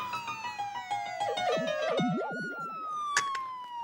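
Police car siren wailing and yelping in rising and falling sweeps, fairly clear and moderately near, with no talk.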